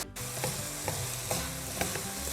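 Small anchovies and garlic scapes are stir-fried in a pan, giving a continuous close sizzle. Rhythmic stirring scrapes recur roughly every half second.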